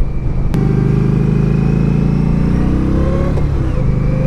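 A 2016 Indian Scout Sixty motorcycle engine runs loud and close, holding a steady, throaty drone that climbs gently in pitch as it revs.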